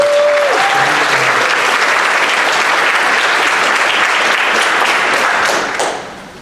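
Audience applause for nominees at the 2016 Shirley Jackson Awards ceremony at Readercon 27, a steady dense roar of many hands clapping that holds evenly before tapering off at the end.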